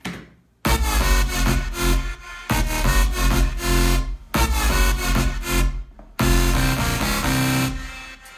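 A loud synth layer stacked with a saw wave and no flanger plays in FL Studio, four heavy sustained chord blocks separated by short gaps.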